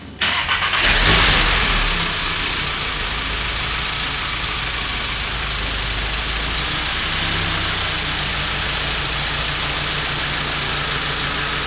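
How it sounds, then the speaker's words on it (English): A car engine cranks and fires up after its engine bay has been pressure washed, then settles into a steady, loud idle that runs alone for about ten seconds. "I'm going to show you now that she will start up"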